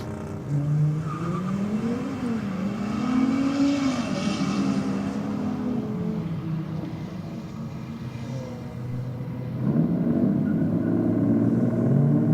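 BMW and Audi drag racing cars accelerate down the strip at a V8 vs I6 theme night, engines droning loudly and rising in pitch through the gears, with a louder surge near the end.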